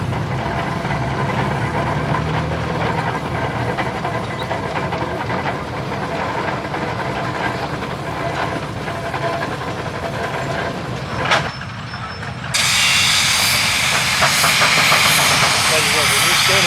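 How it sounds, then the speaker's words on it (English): Steam engine at a summer steam and engine show venting through its blow-off, a loud, steady hiss that jumps sharply in level near the end, heard up close with people talking over it. "Standing next to that blow off, it's loud."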